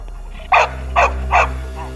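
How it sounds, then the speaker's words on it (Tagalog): A Bull Terrier barks three times in quick succession, sharp and close, over a low steady hum. "Kahit maliit lang din ang katawan ng Bull Terrier, bumawi naman ito sa tapang at hilig sa pagkahol."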